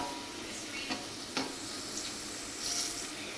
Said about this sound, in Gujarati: ચાલો આપણે આદુને હવે થોડી વાર સાતળવા દઈએ।